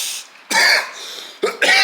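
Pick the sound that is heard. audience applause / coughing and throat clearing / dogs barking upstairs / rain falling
coughing and throat clearing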